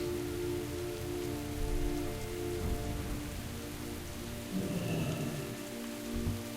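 Steady rain falling in World of Warcraft: Battle for Azeroth, a soft and even hiss over a low constant hum. It stays quiet and unbroken throughout, with no voices.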